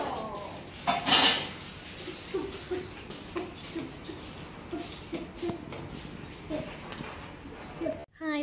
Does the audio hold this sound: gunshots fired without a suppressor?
no